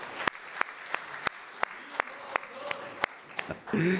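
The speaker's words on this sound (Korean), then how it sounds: "큰 박수 부탁드리겠습니다." Sparse, evenly spaced hand claps from a small audience at a Korean public briefing on Jeonbuk Jeonju's Olympic bid. About a dozen sharp claps keep a steady rhythm, and a voice begins right at the end.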